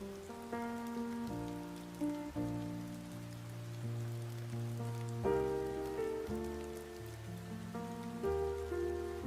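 Steady rain patters beneath soft, sustained musical chords that shift every few seconds.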